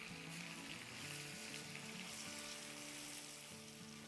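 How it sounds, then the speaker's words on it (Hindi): Cream-marinated malai tikka boti cooking in a hot pan, a steady sizzle and frying hiss with faint scraping as the pieces are stirred, continuous and close, with no talking. "और अब इसको हिलाएंगे"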